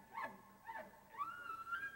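Elk chuckling imitation at the World Championship Elk Calling Contest in Fort Worth, Texas, made by a person with a calling device: short, nasal, grunting chirps followed by a rising, sustained tone, moderately loud, with no speech.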